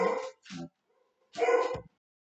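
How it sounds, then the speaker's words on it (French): A female dog barks three times from close by, two quick barks and then a longer one after a short pause, in an otherwise quiet room. "j'ai ma chienne qui a monté la garde"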